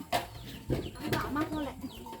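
Chickens cluck near and fairly loud at a rural Thai homestead, with short pitched clucks and calls that come in quick irregular bursts, and a voice talks faintly underneath.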